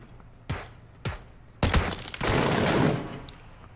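MK14 rifle shots in PUBG, a sharp crack followed by a second, then a heavier burst of reports blending into a roaring, echoing tail, loud and close, with no talk.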